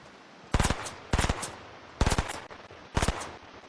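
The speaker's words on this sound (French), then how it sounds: "On va utiliser le snipe pour cette fois." Sniper rifle fire in the Fortnite video game: four sharp bursts of rapid, crackling shots spaced about a second apart, loud and close, with no talking.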